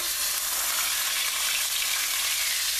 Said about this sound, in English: now we're going to put it in that hot pan, brown it off